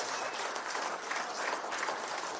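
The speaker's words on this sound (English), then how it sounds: "A big round of applause." Brief, steady crowd applause at a business continuity awareness award ceremony, many hands clapping in a continuous moderate-level wash with no speech over it.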